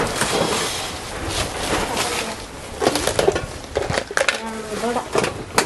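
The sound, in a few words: pots, plates and glasses being handled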